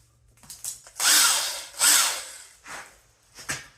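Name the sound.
cordless drill running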